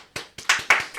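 A handful of separate hand claps from a small group, about five sharp slaps in quick uneven rhythm, close and fairly quiet with no voices.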